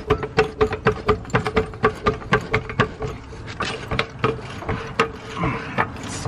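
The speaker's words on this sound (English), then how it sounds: "start jacking it up" A floor jack pumped under a Toyota RAV4 Prime, with a steady, rhythmic series of close mechanical clunks and creaks, roughly three strokes a second, that grows slightly heavier as the load rises.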